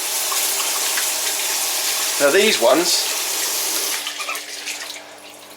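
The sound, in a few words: shower running water from jets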